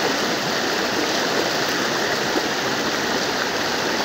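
Strong current of a flooded river, a loud, steady rushing roar of turbulent water without pauses.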